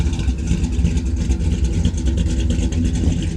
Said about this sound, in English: It's got a Flowmaster exhaust.